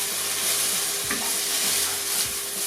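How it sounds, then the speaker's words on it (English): Smoked brisket ragu stirred in a hot pan, giving a steady loud sizzle with a few scraping strokes of the spoon, close and with no voices. "So we'll put that all in and give it a stir."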